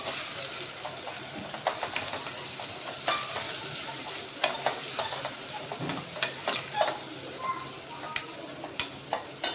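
A spoon scrapes and clacks against a pan in a steady stirring rhythm while turmeric and red chilli powder sizzle and fry underneath, for a papdi goti curry.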